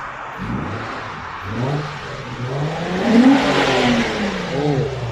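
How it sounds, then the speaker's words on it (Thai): A stock-exhaust Nissan Fairlady 350Z with its 3.5-litre V6 revs up in rising and falling sweeps, building to a louder peak midway before easing off, heard alone without voices. "เดี๋ยวผมสตาร์ทเครื่องให้ฟังนะครับผม อันนี้ท่อเดิมๆนะครับ"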